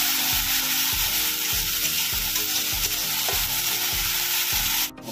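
Spices fried with browned onions in a pan for a fish curry, a steady loud sizzle broken by regular scraping stirs about twice a second, near and continuous, with no talk.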